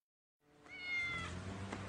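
A cat meows from inside a bag, a single drawn-out, muffled cry that starts after a brief silence and stays close and fairly loud.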